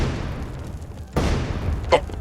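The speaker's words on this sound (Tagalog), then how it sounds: "marinig ang sunod-sunod na pagsabog" A rapid series of explosions serves as a sound effect in a narrated story, heard as rumbling booms with a sharp burst just past the midpoint and a brief crackle near the end.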